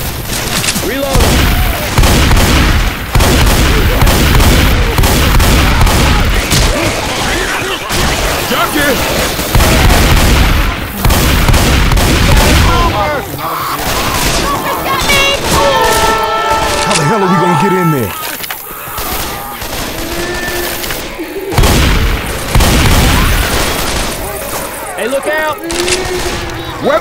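Loud, dense gunfire pours into a crowd in a carnival-themed shooter game, rapid bursts and booming shots nearly continuous, with shouting voices mixed in and a brief quieter stretch with tonal game sounds.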